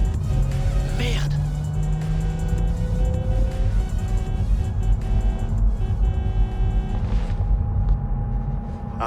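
A car drives through a Cyberpunk 2077 game scene, its engine a steady rumbling drone under ambient sounds and a few sharp noises, with game characters speaking briefly.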